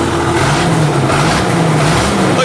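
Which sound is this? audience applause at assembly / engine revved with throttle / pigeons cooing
engine revved with throttle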